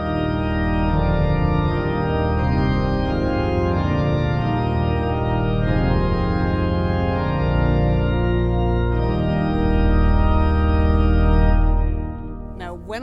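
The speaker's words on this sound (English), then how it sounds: "believe it or not, I've got a 32-foot principal on the manual here" 1993 Casavant pipe organ in a large temple in Independence, Missouri, playing a 32-foot principal stop on the manual with other stops: a dense, sustained, powerful chord with deep rumbling bass, held steadily before releasing into room echo.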